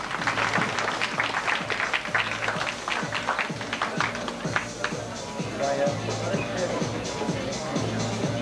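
Audience applause rolls through the hall at the 2001 NABBA Mr England bodybuilding contest after Class 3 judging, a sustained patter of clapping that carries on under an announcer's voice from start to finish.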